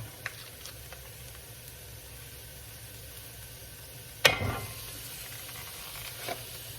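Butter melting with plenty of chopped onions in a pan for a Cajun seafood dish, a steady faint sizzle throughout, with a sharp louder burst of hissing partway through and a small clatter near the end.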